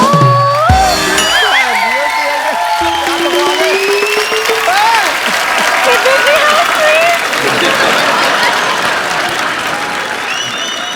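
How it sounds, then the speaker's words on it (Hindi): Studio audience applause on a Hindi comedy talk show, loud and sustained throughout, with whoops and shouts from the crowd and music and voices layered over the opening seconds. "ठोको ताली।"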